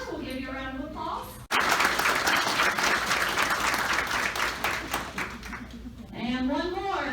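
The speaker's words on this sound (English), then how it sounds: "We'll give you a round of applause" Audience applause for a board of directors at a luncheon, a dense sustained burst of clapping across a room that rises suddenly, holds for several seconds and fades back into speech.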